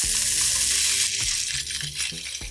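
A New York striploin steak sears in a hot pan, a loud, steady sizzle that dips slightly, with a few faint clinks underneath.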